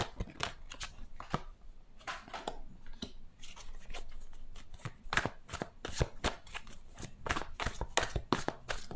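Tarot cards are shuffled by hand, a rapid run of crisp riffling bursts and soft slaps repeating in irregular clusters, close and fairly quiet with no talk.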